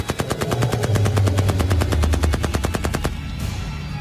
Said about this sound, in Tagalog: binunot ko ang baril sa aking bewang at pinaputukan ko siya